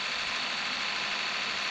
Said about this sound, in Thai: เดี๋ยวเราจะเอารถไถเล็กมาไถตรงนี้ด้วยนะครับ